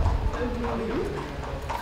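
Horse hooves clip-clop in a steady rhythm at Longchamp, close by and moderately loud, with people talking over them and a brief whinny-like tone.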